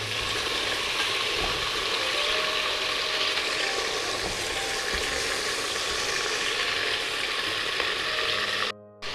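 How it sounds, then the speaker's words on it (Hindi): Mutton frying with hot spices in a pot, a loud continuous close sizzle and crackle with occasional scraping of a spoon, ending abruptly. "हम इसमें डाल देंगे मटन। इसको हमने 4 से 5 मिनट अच्छे से भून लेना है"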